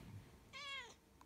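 A grey cat gives a single short, clear meow, quiet and close, with no talking around it.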